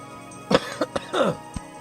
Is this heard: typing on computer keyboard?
no